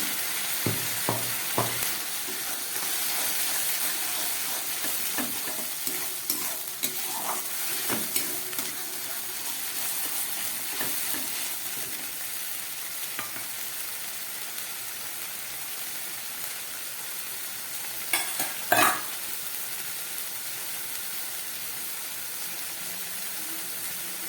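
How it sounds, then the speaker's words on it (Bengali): A spice paste of onion, ginger, garlic, tomato, cumin, coriander, garam masala and pepper sizzles steadily in a pan for an egg do pyaza, while a spoon stirs with scattered scrapes and clinks, close by and without speech. "এবারে দিয়ে দিচ্ছি এই পেস্ট করে রাখা মশলাটা, পেঁয়াজ, আদা, রসুন, টমেটো, জিরে, ধনে, গরম মশলা, গোলমরিচ সব কিছুই এর মধ্যে আছে।"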